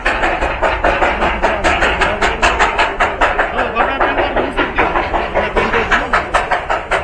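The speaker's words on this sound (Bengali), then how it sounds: "তো ট্রেনটা আসছে দেখো খালি জাস্ট" The Darjeeling train pulls in at the station with a loud, close, steady chugging beat that repeats every third of a second over a continuous rumbling roar.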